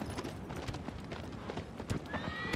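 Horse hooves and a neigh from the Shadow of the Colossus video game on PS4: steady, soft clip-clop of galloping hooves throughout, with a faint whinny, the whole thing quiet and somewhat distant.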